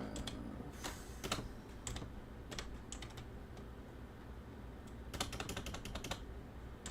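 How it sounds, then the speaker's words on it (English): Slow, uneven keystrokes tap on a computer keyboard, with scattered single clicks and a few short bursts close by over a low background hum. "Ignore my slow typing."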